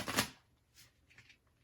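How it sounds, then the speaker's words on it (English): A tarot card deck is shuffled by hand: one loud riffling burst at the start, followed by a few softer, quick card rustles and taps close by, with no talking. "I'm just going to shuffle one more time."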